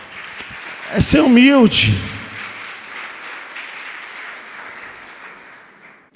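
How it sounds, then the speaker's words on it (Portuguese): Applause from a church congregation during a sermon on family relationships: steady, moderately loud clapping that fills the room after a short burst of a voice, fading slightly toward the end. "Você pode aplaudir o Senhor?"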